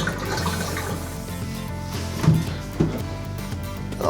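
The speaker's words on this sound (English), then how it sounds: "Oh, that is a good drain right there." Water gurgles and swirls down a bathtub drain that has just been cleared of a slow-drain clog, a steady close drainage sound with a couple of louder glugs toward the end.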